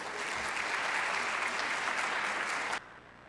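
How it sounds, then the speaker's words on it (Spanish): An audience gives warm applause to welcome a speaker at a stand-up talk, dense even clapping that stops abruptly near the end, leaving quiet room tone. "Lo recibimos con un caluroso aplauso"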